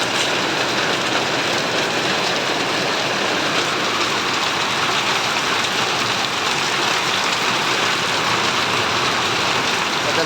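Heavy rain falls steadily, a dense loud roar of drops on surfaces that stays unbroken for ten seconds, close and without voices.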